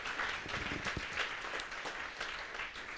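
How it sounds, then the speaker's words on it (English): Brief, steady audience applause for an event organizer, a room full of clapping hands at moderate volume throughout. "Can we just give Katrina a round of applause for all of her hard work"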